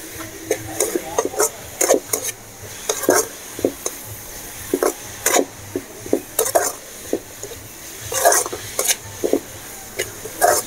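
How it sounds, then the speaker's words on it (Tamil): Momo vegetable filling with coriander powder and pepper is sautéed in a pan, a spatula scraping and clattering against the metal in irregular bursts over a soft sizzle, with no talking. "பச்சை வாசனை போகிற அளவுக்கு எல்லாத்தையும் நல்லா வதக்கணும்."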